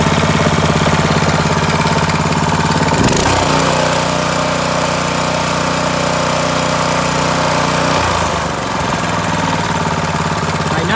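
A Honda GX200 small engine with a broken cam runs steadily and loud, a constant mechanical drone with a brief stumble and change in tone partway through, no voices.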